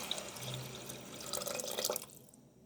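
Tamarind pulp water pours and splashes into a pot of tomato rasam for about two seconds, a light trickling stream that stops abruptly, with no talking.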